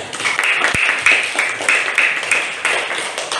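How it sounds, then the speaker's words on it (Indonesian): Classroom of pupils clapping for a classmate, a steady burst of near, bright handclaps with a rhythmic pulse that fades toward the end. "Beri tepuk tangan buat Ananda Hamid"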